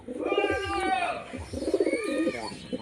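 A pair of adult black fantail pigeons, male and female, coo repeatedly at close range in rolling, throaty phrases, with a voice audible alongside.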